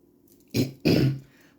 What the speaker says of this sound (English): When I recorded it before, I wasn't coughing at all, but now I am.